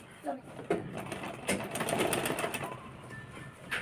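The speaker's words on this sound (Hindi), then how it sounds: "यहाँ से भी इस तरह से इसको सिलाई लगा लेंगे" A sewing machine stitches a netted frill blouse in short whirring runs, fairly close, while someone speaks over it.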